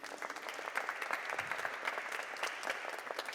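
An audience claps warmly for a stage crew member, a dense, even patter of many hands that holds steady throughout without cheering.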